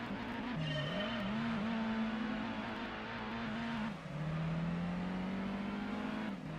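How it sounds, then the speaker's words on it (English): A loud, steady rotary engine of a Mazda Cosmo in a racing video game drones through a race, its pitch wavering and rising as it revs and shifts, with a brief dip midway before climbing again. "That engine doesn't sound particularly rotary"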